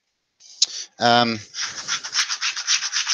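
Steady rasping strokes of sandpaper on wood, close by, with a brief voiced sound near the start before continuous scratchy rubbing.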